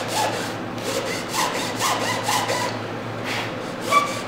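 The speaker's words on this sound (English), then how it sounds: "we got about a half an inch to go, and then this whole packet will be cut out" Fine hand saw cutting out a cameo, rapid rasping back-and-forth strokes in a steady rhythm, close and moderately loud with a faint low hum beneath, no voices.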